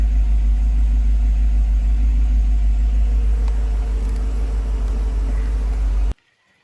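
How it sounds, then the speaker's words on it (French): A Mercedes 500 SL R129 engine idles just after starting, a steady low rumble held at constant loudness for about six seconds before cutting off abruptly, with no talking. "Voilà, le moteur a démarré, impeccable."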